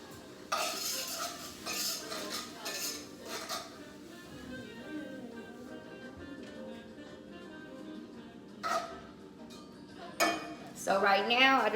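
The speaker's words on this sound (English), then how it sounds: "So right now, I just got my butter going, my peppers, my minced garlic." Butter, peppers and minced garlic cooking in a pan at home, heard as soft sizzling under clattering utensils and pan clinks, with a voice talking over parts of it.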